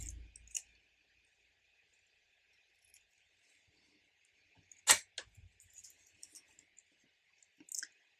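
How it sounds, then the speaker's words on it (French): Scissors cutting a ribbon shorter for a scrapbook craft on an embroidery hoop: one crisp close snip stands out in a quiet room, followed by a few small faint clicks and handling noises. "On va venir raccourcir un petit peu notre ruban."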